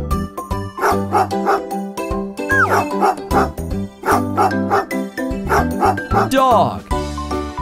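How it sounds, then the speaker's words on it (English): A dog barks and yips several times in quick bursts over a bright children's learning-song melody. "Dog."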